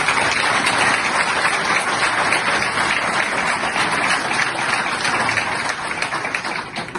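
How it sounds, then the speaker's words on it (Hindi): Sustained audience applause for two judges who resigned, heard at a political talk by Imran Riaz Khan on the constitutional court, dense and steady throughout and fading slightly near the end, with no talk over it. "2 जजेस के लिए पहले तालियां मिले आप सब"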